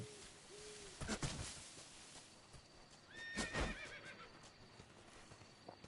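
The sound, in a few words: horse neighing in the video game Metal Gear Delta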